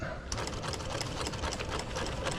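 Sewing machine running on slow speed, stitching banding onto a rear trunk carpet for a Lotus Esprit, a steady close rapid mechanical chatter that stays even throughout.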